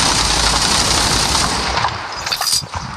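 Dense gunfire from the World War Heroes video game, a loud, rapid stream of overlapping shots and bursts that continues throughout and thins slightly toward the end, with no talk.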